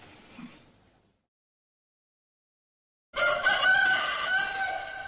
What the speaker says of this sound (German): Für Gockel Konstantin hat Fliegen keinen Sinn